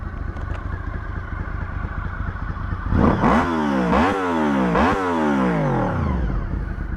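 A 2000 Honda VFR800 with a V4 engine idles with a steady low rumble, then is revved three times in quick succession, each rise and fall sharp and close.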